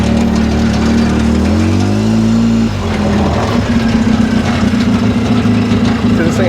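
A Polaris RZR 800S side-by-side drives up a side road with a loud, close engine drone that shifts pitch as it changes speed, then settles into a steady, rough hum.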